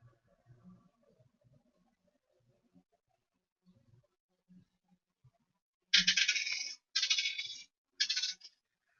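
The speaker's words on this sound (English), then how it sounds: "Just the sound of rolling dice" Dice rolled during a tabletop role-playing game, heard as three short bursts of clattering rattles close by, each under a second, after a stretch of near silence with faint murmurs.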